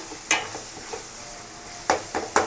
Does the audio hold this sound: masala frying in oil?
yes